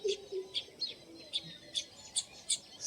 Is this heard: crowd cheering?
no